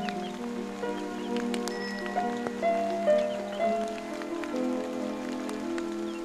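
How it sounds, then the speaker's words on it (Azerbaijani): Light autumn drizzle falling over a mountain village wrapped in fog, a steady soft patter of raindrops on surfaces with a continuous hiss and a low tonal hum beneath, fairly quiet and even throughout with no voices. "Narın payız yağışı isə lap yerinə düşür."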